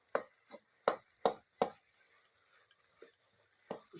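A spoon scrapes and knocks against a pan as peanut halwa (makhandi halwa) is stirred while it roasts. The clinks come close and irregular, with a few sharp strikes early on and then sparser, softer ones, and no talk.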